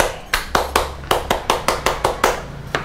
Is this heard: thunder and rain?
no